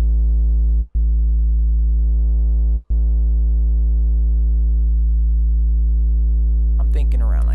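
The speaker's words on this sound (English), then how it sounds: "this is how I like to get my 808s to sound where they're good in the mids and also knocking on the low end" An FL Studio 808 bass with added harmonics holds a steady, loud deep tone with rich upper overtones, broken by two very brief dropouts, and a short burst of higher noise near the end.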